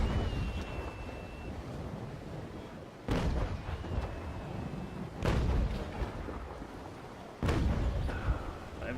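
Naval broadside cannons firing from HMS Trincomalee in a warship video game, with three heavy booming shots spaced a couple of seconds apart over a steady wind-and-sea backdrop.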